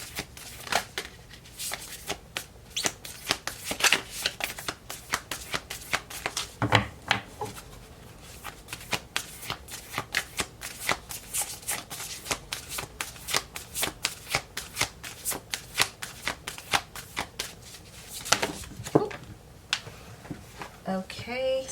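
A tarot card deck is shuffled steadily, with rapid, crisp riffling and card slaps continuing close up throughout.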